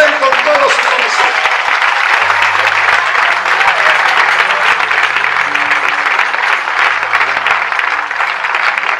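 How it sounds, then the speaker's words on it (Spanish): A church congregation applauds during a sermon, with dense, loud clapping sustained throughout and low instrumental tones and voices underneath. "Den un aplauso al Rey con todos su corazón."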